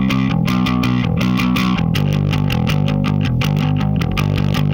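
Bass guitar played through the free Razor bass amp simulator, a steady run of loud, gritty, distorted notes with a plucked rhythmic pulse throughout, no voices.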